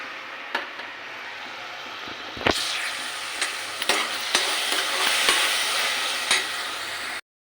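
Turmeric and ginger garlic paste fry in a pan for mushroom curry, giving a loud, steady sizzle close up, broken by scraping stirs and a few sharp clicks of the spoon.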